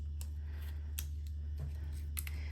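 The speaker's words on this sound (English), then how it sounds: "You have these massive scissors, which are great, but I want to hold them open compared to these ones." Roxon Flex shears are opened and handled close by, with several short metallic clicks and snips spaced irregularly over a steady low hum.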